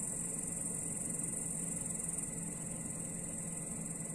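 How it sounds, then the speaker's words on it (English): Loud cicadas drone in a constant high-pitched buzz beside a river, a steady unbroken chorus with no pauses over a faint low background rumble. "These cicadas be loud as fuck."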